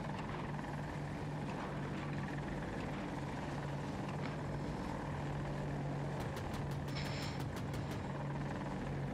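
A helicopter in a military video game drones loudly and steadily throughout, its rotor and engine noise continuous with a low hum underneath and a brief burst of rapid clicking near the end.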